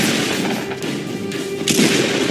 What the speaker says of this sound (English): They're actually shooting at me.